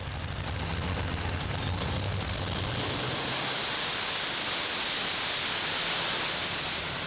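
Twin Rover Meteor engines with Allison superchargers, running on methanol, power the De Jong Special pulling tractor at a Herning tractor pull, giving a loud, steady roar that swells into a broad hissing wash as it pulls.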